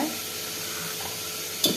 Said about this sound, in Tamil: வெங்காயத்தை நல்லா வதக்கிக்கிட்டே இருங்க சிம்மில் வச்சு.